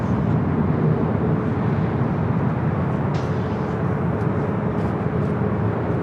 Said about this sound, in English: Now we do the Korean Air Flight 111 coming in from Seoul, heading here for a north side arrival.